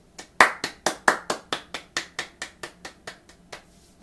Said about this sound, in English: I hope you will help me congratulate her with some applause